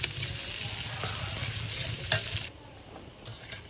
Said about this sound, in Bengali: এখন ভালোভাবে পেস্টটাকে একটু নেড়ে চেড়ে ভাজা ভাজা করে নেব।